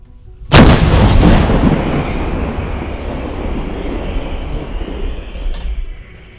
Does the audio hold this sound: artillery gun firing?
yes